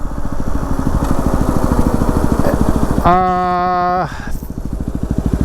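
Yamaha WR250R motorcycle engine while riding, a steady close, rapid single-cylinder thrum under wind, briefly overlaid by a loud rising whine for about a second before the pulsing drone resumes.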